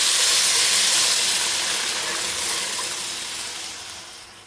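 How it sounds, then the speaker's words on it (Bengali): Water poured into a hot pan of onion and tomato masala sends up a loud, broad steamy hiss. The hiss is strongest at the start and fades gradually, with no talking. "এখন আমি জল দিয়ে দিচ্ছি। খুন্তি ধুয়ে জল দিয়ে দিচ্ছি।"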